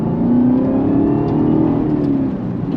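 A 2021 Chevrolet Camaro ZL1 1LE with a six-speed manual, its engine droning and rising steadily in a loud, sustained rev from inside the car, with no one talking.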